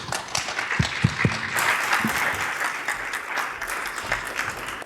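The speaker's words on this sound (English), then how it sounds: "If you could give them, please, a nice round of applause" An audience at a summit panel on giga-cities applauds the departing panelists, steady crowd clapping with a few close, sharp claps near the start and faint voices underneath.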